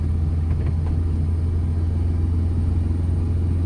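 A car pulls ahead through city traffic under a driving lesson, its engine giving a steady, loud low rumble that holds constant for the whole stretch with no clear rise in revs.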